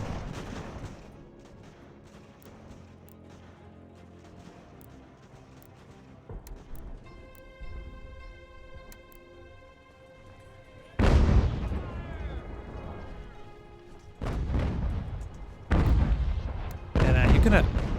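Musket volleys and artillery fire from an eighteenth-century fort defence in the video game Ultimate General: American Revolution build from a low rumble with distant pops into loud, heavy bursts of gunfire near the end, under game music.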